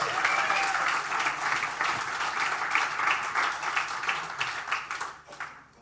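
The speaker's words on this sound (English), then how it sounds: "If you're happy and you know it, clap your hands." A church congregation claps together steadily for several seconds, loud and dense, then the clapping thins and fades out at the end.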